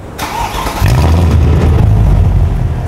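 A Mercedes C63 engine fires up with a sharp starter burst, then settles into a loud, deep, rumbling idle with a slight rev, close by and dominating with no talk.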